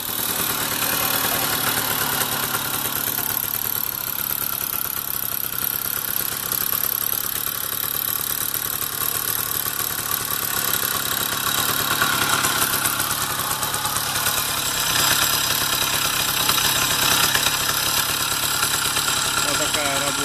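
A Riga-13 moped engine idles steadily after being started, a constant buzzing putter close by that runs without pause, with someone talking over it.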